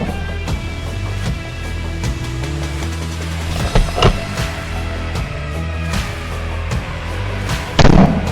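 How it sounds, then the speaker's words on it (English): Hunters' gunfire against charging wild boars booms across a valley as a few loud, echoing bangs over a steady musical bed. "The sound of gunfire echoes across the valley"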